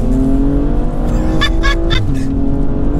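A BMW M235i engine revs hard and accelerates loudly, with a quick burst of sharp exhaust pops and crackles partway through.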